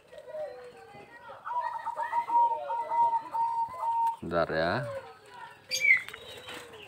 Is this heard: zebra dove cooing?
yes